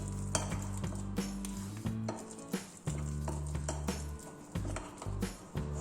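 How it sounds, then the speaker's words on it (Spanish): Panettone dough being stirred with flour in a bowl, heard as close scraping, clinks and knocks of utensil against the bowl over a steady low hum, with no talking. "y revolvemos hasta compactarlo todo"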